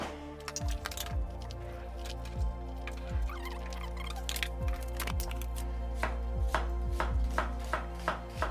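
Vegetables being chopped for a soya veg biryani make a run of sharp knife strikes on a board at an uneven pace, close and crisp over a steady low kitchen hum.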